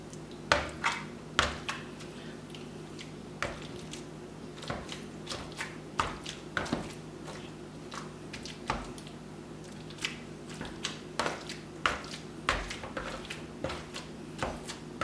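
Spoon working through a bowl of guacamole with diced tomatoes and jalapenos, soft wet squishes and light taps against the bowl in an irregular rhythm, close and quiet over a steady low hum.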